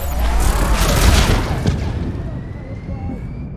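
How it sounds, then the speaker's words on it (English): Heavy booming missile launches and explosions rumble in Mass Effect 3 combat, a dense loud barrage that fades into a lingering roar, with a voice speaking over it. "That's it for the missiles. Switching to the gun."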